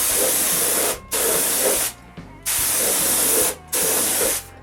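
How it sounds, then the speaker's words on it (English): Spray gun coating the central posts of a wooden shoe rack, loud steady hissing bursts of about a second each broken by brief pauses, close up with no talking. "Then I can spray everything. I begin with the central posts."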